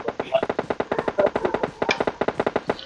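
Rapid automatic gunfire in a mobile battle royale video game, a dense continuous burst of shots with a steady fast rhythm, loud and close, with no talk over it.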